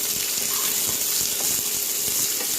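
Onions, curry leaves and lemongrass sizzle in hot oil while being stir-fried in a pan, a loud, steady hiss with occasional soft scraping from the stirring.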